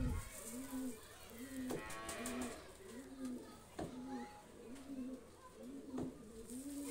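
Bondhodom pigeons, a ringed male and female, coo in a repeated rhythmic pattern, close by and clear, with faint clatter and background voices underneath.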